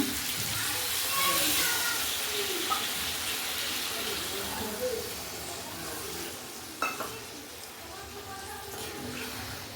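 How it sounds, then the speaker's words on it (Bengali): Hot water poured into chicken curry in a pan, a broad rushing, bubbling sizzle with occasional clinks, heard under a speaking voice throughout. "এবার একটু গরম জল দিয়ে দেবো সেদ্ধ হওয়ার জন্য"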